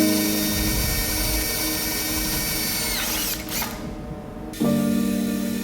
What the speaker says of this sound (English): Then he drills into the end of the crack.